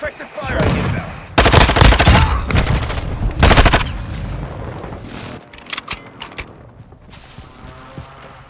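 Heavy gunfire and booming explosions in Call of Duty: Modern Warfare II during a museum battle, with dense bursts of shots and blasts that fade into scattered impacts and mechanical clatter, under brief radio chatter.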